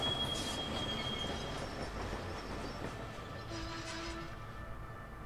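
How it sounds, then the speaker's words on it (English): A train pulls up in the Sniper Elite V2 video game, a steady low rumble of rolling wagons with squealing wheels and a brief tonal screech, faint and distant. "Sounds like a train's pulling up."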